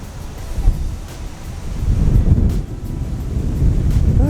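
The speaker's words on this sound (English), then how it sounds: "it's really windy" Steady outdoor wind buffeting the microphone, a low continuous rumble that swells and dips for several seconds with no voices.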